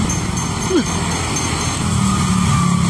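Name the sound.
white car driving up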